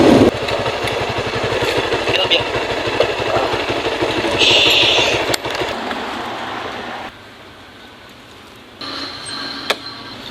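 A motorcycle engine idles steadily with a low rumbling throb, continuous throughout and fairly close, dropping slightly in level near the end.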